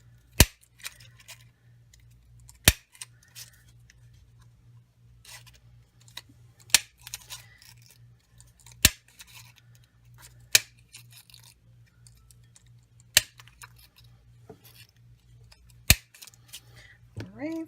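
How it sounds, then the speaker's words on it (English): Craft punch stamping shapes out of paper scraps: a series of sharp, crisp clicks spaced a couple of seconds apart, close by, with faint rustling of paper between the punches. "And I'm just going to punch this out."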